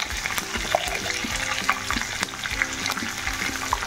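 Tempering spices with curry leaves crackle and sizzle in hot oil for a raw mango pulihora, a busy continuous frying hiss with faint stirring clinks.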